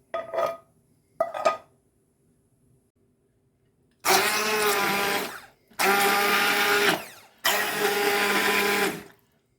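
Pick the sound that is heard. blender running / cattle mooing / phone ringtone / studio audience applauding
blender running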